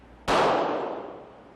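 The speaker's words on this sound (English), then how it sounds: "Now let's see the effect with the 165 grain bullet" A single sharp gunshot from a .40 caliber pistol firing a 165-grain bullet, loud and close, with a sudden crack followed by a long decaying echo trailing off over about a second.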